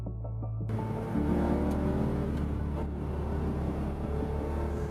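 A Porsche 911 RS engine, a deep steady rumble that rises in pitch as it revs and accelerates, heard close and continuous after a brief quieter start, with no talk over it.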